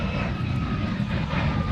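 An MD-11 jet airliner's engines roar steadily at Honolulu airport, a dense broadband rumble with a faint whine on top, moderately loud and distant, with no voices.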